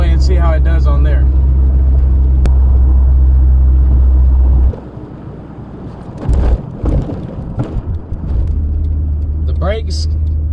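A Jeep XJ drives on the highway, its loud, steady low engine and road drone under close talk, dropping out abruptly midway before returning quieter with wind buffeting.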